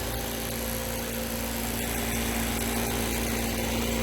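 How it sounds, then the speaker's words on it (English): A laboratory vacuum pump on an MBraun Unilab glovebox runs at its exhaust line, a steady low mechanical hum with a constant tonal drone and faint vibration, continuous throughout with no voices. "So this is the exhaust of the vacuum pump."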